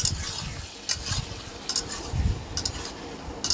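Spicy chicken is stir-fried for kosha in a pan, with a spatula scraping and clattering in quick rhythmic bursts close by over a soft sizzle.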